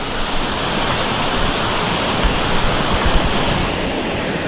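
Steady, roaring rush of water from a nine-tier waterfall in Suan Phueng, Ratchaburi, where teenagers swim. It is loud and continuous throughout, with no voices.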